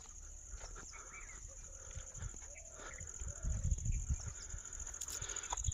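Sheep bleat in a sheep shed on a one-acre farm plot in Kanakapura, with a few short calls rising over a steady rural background hum, fairly faint and not close.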